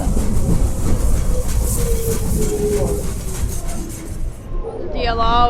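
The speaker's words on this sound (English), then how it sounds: "This is the DLR self-driving train" A London DLR self-driving train rumbles loudly nearby with rhythmic clacking and a rising electric whine, then slows toward the end as a voice starts speaking over it.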